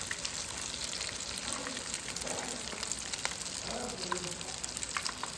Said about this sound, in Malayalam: ഇനി ബാക്കി ഇരിക്കുന്നത് ഇതേപോലെ നമുക്ക് പതുക്കെ ഇട്ട് പൊരിച്ചെടുക്കാം